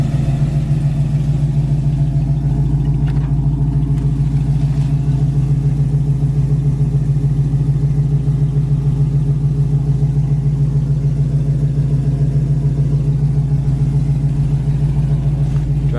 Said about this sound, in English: Exhaust sounds nice. Motor's quiet.